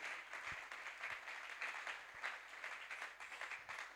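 A church congregation at a Tuesday teaching service applauds, with sustained, even clapping from many hands that fills the room at moderate volume for the whole stretch.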